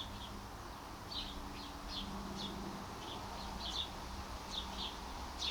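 A sparrow chirps in a garden with short, bright, repeated cheeps that come in irregular bursts, fairly faint and set against a soft, steady outdoor background.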